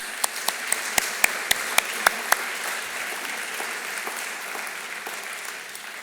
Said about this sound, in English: would like to ask you to join me in giving him a round of applause